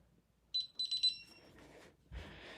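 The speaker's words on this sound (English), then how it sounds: "Put the alarm back on." A home alarm system gives a few short, high electronic beeps in quick succession, followed by faint rustling and a soft thump nearby.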